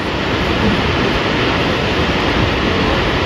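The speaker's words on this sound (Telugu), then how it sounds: "మేము వాటర్ ఫాల్కి చాలా డిస్టెన్స్లో ఉన్నాము, బట్ సౌండ్ అయితే అదిరిపోతుంది కదా వినడానికి." A winter waterfall at Nikko, Japan roars as a steady, dense wash of broadband rushing water heard from a distance, unbroken and fairly loud with no voices over it.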